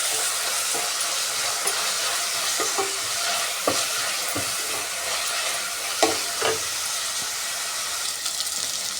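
Homemade ginger garlic paste sizzles and fries in a pan with a steady hiss, while a spoon stirs it and gives off scattered scraping clicks.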